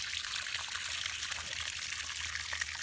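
Water drains steadily from a row of six emergency collection tanks holding about 1,800 gallons, a continuous close rushing and trickling with no talk over it.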